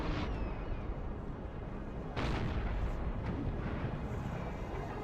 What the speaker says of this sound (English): Alright, howitzers are fired.